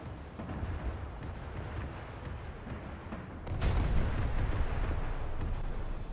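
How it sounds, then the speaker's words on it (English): Naval video game combat with incoming gunfire aimed at the player's ship, dull booming artillery rumble rolling continuously, then a sharp louder blast near the middle that keeps the low roar heavier afterward. "Something's trying to shoot me over the hill, but I don't know what."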